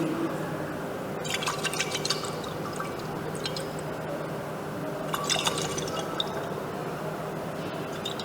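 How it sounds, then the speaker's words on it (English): Liquid sloshes and swirls as a flask of sodium carbonate salt in water is shaken to dissolve it, with bursts of splashing agitation around the middle and later in the stretch over a steady wet background. "shake it well, see that the salt is dissolved completely"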